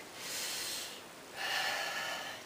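Two deep breaths sound close and clear, a long airy inhale followed after a short pause by a stronger, fuller one, with nothing else heard.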